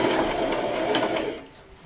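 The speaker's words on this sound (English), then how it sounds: "So I'm gonna give a backward stitch so it's bring it back." A sewing machine running steadily while backstitching ribbon on a tutu, a brief continuous mechanical whir that tapers off at the end.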